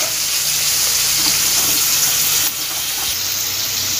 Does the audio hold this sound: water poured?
yes